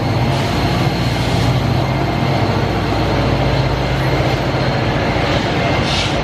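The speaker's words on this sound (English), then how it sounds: "That train's beating us." A commuter train near Secaucus Junction rushes past with a loud, continuous roar and rumble of wheels and wind that holds steady from start to end.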